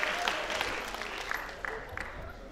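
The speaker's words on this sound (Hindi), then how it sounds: "एक बार पूरा सदन तालियां बजा करके मुझे आदेशित करे" Applause from the audience at a Hindi poetry recital, a kavi sammelan with mushaira, heard as a faint, distant patter of clapping hands with a few sharper claps standing out in a large hall.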